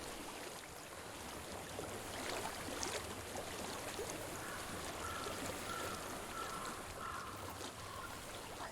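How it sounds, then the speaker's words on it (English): Flowing water in the video game Hellblade: Senua's Sacrifice, a soft, continuous stream-like rush and trickle heard faintly and evenly throughout with no talking. "I hear water."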